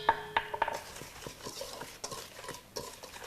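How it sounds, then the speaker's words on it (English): Dry flour, sugar, baking powder and salt stirred together in a large bowl, with a few clinking utensil taps at first, then steady soft scraping and stirring strokes, close and moderately quiet. "Now I'll mix together the dry ingredients in a large bowl"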